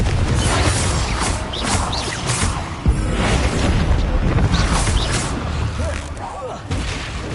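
Hogwarts Legacy's Confringo spell bursts in a dense series of booming, crackling explosions over a constant loud rumble, with game battle noise throughout.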